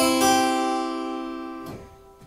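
Harpsichord transposed to 415 Hz Baroque pitch, sounding a bright plucked chord that rings and fades, with another plucked chord entering later, close and clear with no voices.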